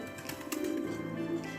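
Racing pigeons coo softly in a short, low, throaty burst, close by and alone without talk.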